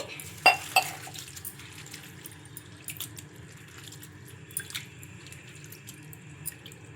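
Thick flattened rice (poha) is rinsed in water in a bowl, giving a couple of sharp splashes followed by quiet dripping and gentle sloshing in a kitchen.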